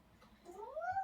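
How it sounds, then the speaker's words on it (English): A cat gives one short rising meow, faint and in the background, alone in a quiet room. "that's my cat in the background now."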